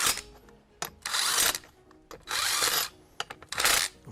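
Power tool snugging the wheel nuts on a Renault Kangoo wheel, three loud whirring bursts separated by short pauses with small metallic clicks, close by.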